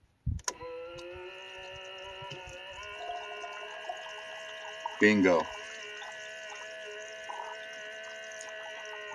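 An electric pump moving water from a 5 gallon bucket into an RV fresh water tank while boondocking, a steady mechanical hum with a brief gurgling surge midway; a voice speaks briefly.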